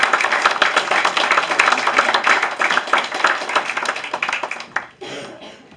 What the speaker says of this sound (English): They deserve at least a good round of applause.